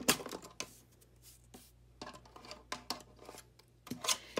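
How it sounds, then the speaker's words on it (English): Scissor blades scrape along the edges of cardstock to distress them for a Stampin' Up! card, producing quiet, close scratchy strokes in an irregular rhythm over a faint hum, with no talking. "I'm gonna take my scissors and I'm just gonna rub the edge at an angle on the sides of the cardstock"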